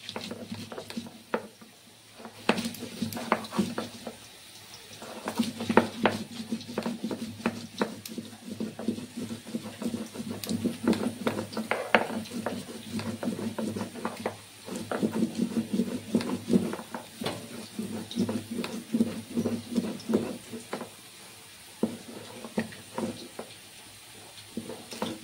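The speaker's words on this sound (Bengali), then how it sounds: "কাঁচা লঙ্কাগুলো বেটে নিচ্ছি।" Green chillies are ground on a shil nora grinding stone while potatoes fry nearby, giving steady rhythmic scraping and rubbing strokes that continue throughout over a soft background sizzle.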